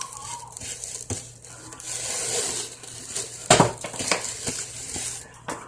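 Homemade play dough made from flour, air freshener and lotion is mixed by hand in a bowl, with soft scraping, stirring and occasional clinks of utensil against the container.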